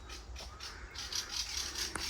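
Crows caw repeatedly near their nests in a cemetery in Astana, a faint, distant cluster of harsh calls over steady outdoor background noise.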